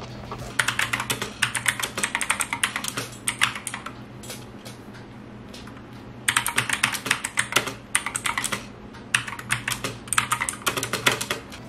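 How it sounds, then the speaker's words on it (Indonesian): Typing on an Armaggeddon MKA-2C mechanical keyboard with clicky blue switches gives rapid, sharp, close key clicks in bursts, pausing briefly between runs over a low background hum, with no voices. "Jadi untuk feel-nya cukup berisik ya, tipikal dari Blue Switch ya."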